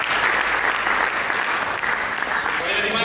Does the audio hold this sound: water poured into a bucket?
no